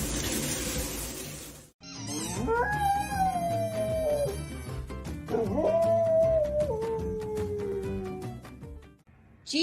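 A dog howls in long, wavering, drawn-out notes that slide up and then slowly fall. It is close and loud, in two sustained howls after a brief burst of noise.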